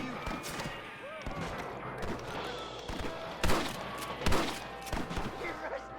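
Gunfire in a Western shootout in Red Dead Redemption: scattered sharp gunshots at close range, with a few louder blasts standing out, under voices shouting.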